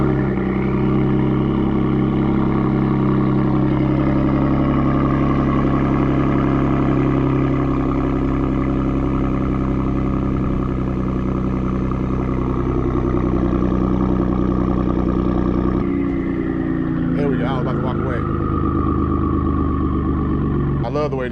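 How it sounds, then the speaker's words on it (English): A car engine after a cold start settles into a loud, steady idle with a deep even drone held up close for about fifteen seconds, then the tone shifts near the end as a brief burst of other noise breaks in. "Let's get ready to cold start for y'all."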